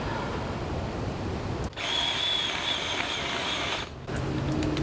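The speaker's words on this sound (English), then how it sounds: "The battery is overheated and the chainsaw is struggling." A small motor of a Ryobi battery chainsaw with an overheated battery whines steadily with a gritty cutting drone, briefly cutting out twice as it bogs down, sounding strained and underpowered.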